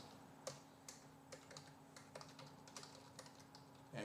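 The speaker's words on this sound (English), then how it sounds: "you can type in your JavaScript" Quiet, close computer keyboard typing of JavaScript code: a steady run of soft individual key clicks at an irregular, brisk pace, with a faint hum underneath and no talking.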